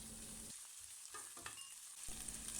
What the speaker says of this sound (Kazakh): Пиязды салып, суы шыққанша тағы бір қуырамыз.